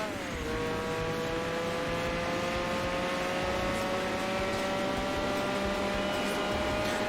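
A racing car engine in Gran Turismo 4 holds a steady, continuous drone, its pitch climbing slowly through the gears while the broad engine noise stays loud. The sound is close and even, with no talking.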